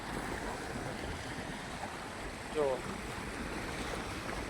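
Sea waves wash steadily onto the shore at Kuda beach, a continuous broadband surf roar mixed with wind rumble on the microphone, with one brief louder swell midway.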